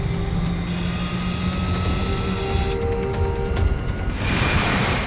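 Jet engines on Air Force One spool up to add thrust in a movie crash scene as the plane loses altitude. A steady, dense roar swells with rising tonal whines and turns into a loud rushing surge near the end, with no speech.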